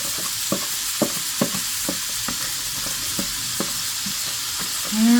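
Diced onions and Polish sausage sauté in a pan, giving a loud, continuous sizzle broken by regular spatula scrapes and taps roughly every half second.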